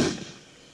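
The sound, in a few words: gunshot at velociraptor, Trespasser video game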